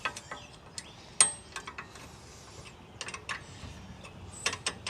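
Bolts being run down tight on a 6.5hp mud motor, sharp ratcheting clicks and metallic ticks in short irregular bursts, close and fairly quiet, with no talking.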